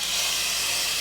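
Hot tempering poured into a hotel-style mixed vegetable sambar gives a brief, loud, continuous hiss, close and steady with no talk.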